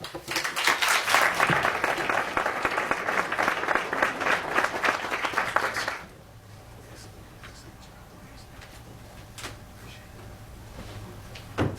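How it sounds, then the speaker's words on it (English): An audience at the Empowerment Summit 2024 gives dense, close applause for about six seconds, then it stops sharply, leaving a quiet room with faint shuffles and occasional small knocks. "Let's give him another big round of applause."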